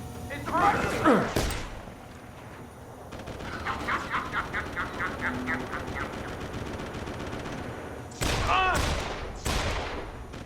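Automatic gunfire in a video game rattles in quick, regular bursts through the middle of the clip, with voices speaking before and after the shooting.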